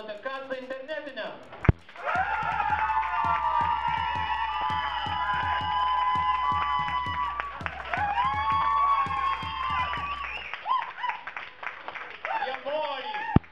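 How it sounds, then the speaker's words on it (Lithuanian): A poetry slam crowd at the BIX bar applauding and cheering, a sustained burst of rapid clapping with whoops lasting several seconds, with speech and a loud voice before and after. "savo aplodismentus ir triukšmą rodote"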